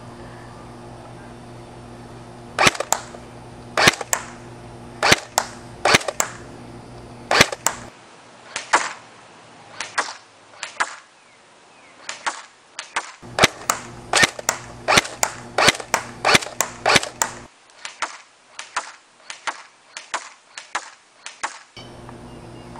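A Classic Army P90 Sportline airsoft gun firing 0.28 gram BBs at a target about 50 feet away, dozens of sharp single shots in irregular bursts, close and loud with short quiet gaps between strings.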